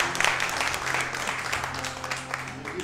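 A church congregation applauds with steady, sustained clapping that fills the room at moderate volume and has a faint murmur beneath it.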